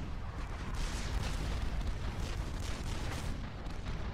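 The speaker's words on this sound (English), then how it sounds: "the mobile missile launchers seem to be eating the demolishers as they're idle" Mobile missile launchers firing in the real-time strategy game Supreme Commander 2, a dense continuous barrage of booming, crackling shots layered over each other, steady and loud with no talk.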